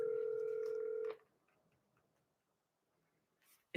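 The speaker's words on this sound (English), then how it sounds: "Phone's ringing." A phone rings once with a steady electronic tone for about a second before cutting off, followed by near silence and faint room noise.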